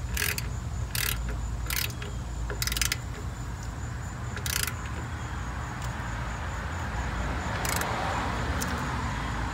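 Ratchet wrench tightening brake bracket bolts during a rear brake and rotor change on a 2011 Kia Soul, several short bursts of clicking ratcheting spaced irregularly over a steady low background hum.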